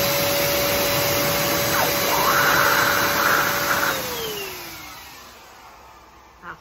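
A compact handheld blower pushing filtered, heated air for car interior detailing whines loudly and steadily, then winds down after the trigger is released and fades toward quiet, with no talk.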